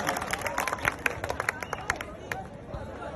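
An audience at a public gathering in Haryana breaks into applause to welcome a speaker: dense, ragged clapping from many hands, loudest early and thinning toward the end, with crowd murmur underneath.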